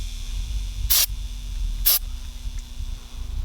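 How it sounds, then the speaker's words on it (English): Two short bursts of starting fluid sprayed from an aerosol can about a second apart, hissing sharply against a low background hum, during an oil change on an Exmark mower. "So I just use starting fluid because it dries out pretty easy, pretty fast. Just spray in there."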